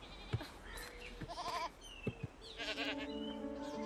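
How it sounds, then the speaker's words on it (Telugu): Sheep bleating after being struck by a car, several short wavering bleats close together over roadside noise, fairly faint and without speech. "గొర్రెల్ని గుద్దా"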